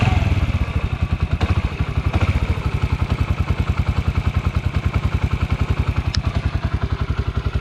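A motorcycle engine started and idling with a steady, rapid thumping pulse and a light clattering valve tick, close and loud with no talk over it.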